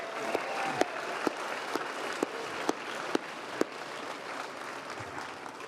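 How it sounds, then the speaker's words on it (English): A crowd applauds actor Lou Diamond Phillips at a Western Heritage Awards ceremony, a moderate, steady wash of clapping with a few sharper individual claps standing out at regular intervals. "Give him another big round of applause."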